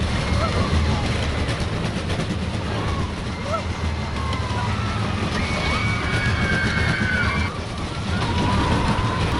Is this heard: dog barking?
no